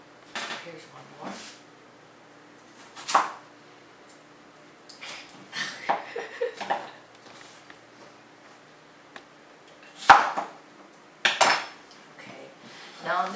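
Potato chunks drop into a metal cooking pot for shepherd's pie, giving several sharp clatters and clanks spaced out, close by, with quieter utensil knocks between them.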